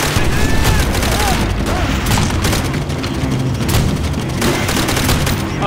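Call of Duty: World at War battle, with dense gunfire crackling and grenade booms in a constant loud barrage, a voice faintly underneath.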